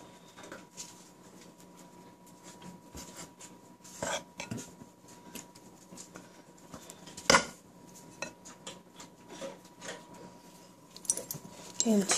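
A mixture of white and whole wheat flour gets stirred in a pot, with soft scraping and scattered clinks of utensil against metal, fairly quiet, with a few sharper knocks near the end.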